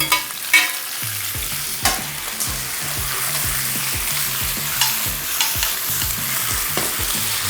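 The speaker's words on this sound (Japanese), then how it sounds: "ではここでお肉を戻します。" Beef and two colors of paprika stir-fried in a pan with Japanese sansho pepper seasoning, giving a steady sizzle with quick, repeated scraping and clattering of the stirring utensil throughout.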